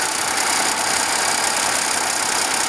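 Engine of a 1930 BMW Dixie running in a steady, loud drone with a rough mechanical texture and no talking.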